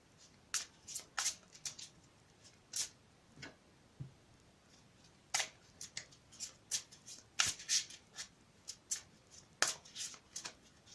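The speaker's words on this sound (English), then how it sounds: "I've already shuffled the deck, but I'll give them one quick shuffle" Cards riffle and snap in quick, irregular bursts, a close, crisp shuffling in a quiet room with no talking.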